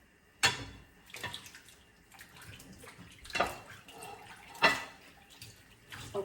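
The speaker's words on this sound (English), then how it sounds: "I'm going to wash it by using the warm water" Warm water splashes and runs over cut pork ribs being washed in a kitchen sink, with a few sharp splashes and clatters and low, intermittent running water between them, fairly quiet and close.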